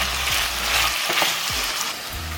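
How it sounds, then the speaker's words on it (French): Chicken fries in a pan with ginger and lemongrass, giving a steady close sizzle with a few brief stirring scrapes. "une fois que le poulet a commencé à un peu cuire, on va rajouter le gingembre, comme ça, et la citronnelle"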